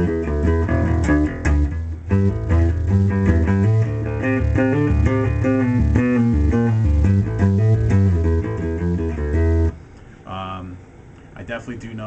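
A full band plays a driving groove built on a deep, prominent bass guitar riff, steady and loud, before dropping away near the end.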